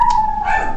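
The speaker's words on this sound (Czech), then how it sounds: "Asi slyšíte mý psy, jak štěkají." Dogs on a farm give a single short, strained yelp that holds a steady tone for under a second, with a faint background hiss.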